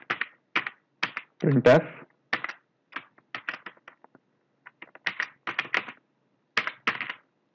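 C code is typed on a computer keyboard in short, irregular bursts of crisp clicks with pauses between them, while someone speaks briefly over the typing.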